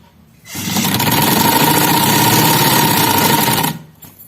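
A sewing machine runs steadily for about three seconds, stitching a border strip onto a salwar trouser leg, loud and close with a constant whirring drone that starts and stops abruptly, no talk over it.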